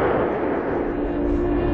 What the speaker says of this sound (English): here comes the shockwave.